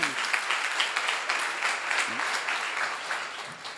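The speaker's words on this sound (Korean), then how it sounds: "박수를 하세요" A church congregation applauds during a seminar, a full, continuous patter of many hands clapping together at steady loudness, with faint voices mixed underneath.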